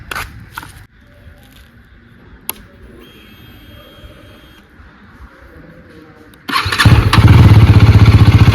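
KTM Duke motorcycle starting: a few seconds of near quiet with small clicks, then the engine catches and runs loud and close with a rapid, throbbing idle.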